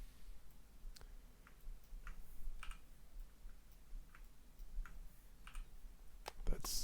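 Faint, scattered clicks of keys being pressed, a few irregular taps spread out over a quiet background hum.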